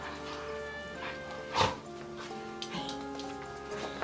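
Several dogs play together indoors, giving a few whimpers, yips and short barks with one louder bark, close by and mixed with faint household noise.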